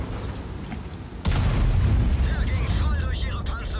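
A tank's ammo rack detonating in World of Tanks, a sudden heavy boom that rolls into a sustained rumbling roar with crackling debris, loud and close.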